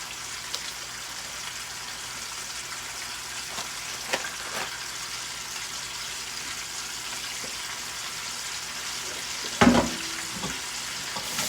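Chicken wings deep fry in a very full pot of grease, a steady hissing sizzle with faint bubbling crackles and a brief clatter near the end.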